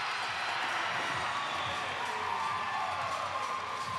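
A steady, broad roar of a crowd cheering and shouting at a strongman competition, continuous and fairly loud throughout with no clear breaks.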